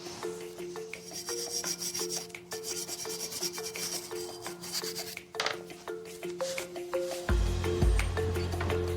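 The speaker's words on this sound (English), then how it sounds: "I'm just going to resort back to good old-fashioned elbow grease and start scrubbing up some of these gears, just to remove years of old dirt." Hands scrub years of old dirt off the gears of a vintage King George VI era lawnmower. Rhythmic rubbing and rasping strokes repeat at close range, with a louder, heavier stretch of scrubbing near the end.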